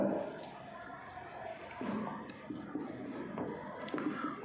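An accounting entry being written out by hand: continuous light scratching strokes with short pauses and a few firmer marks, nearby and moderately quiet, with a faint murmur beneath.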